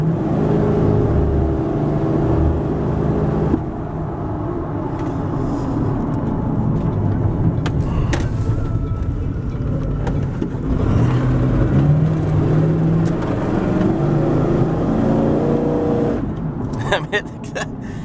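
A truck engine hums steadily while driving at speed on a highway, with road and wind noise throughout and shifts in engine pitch.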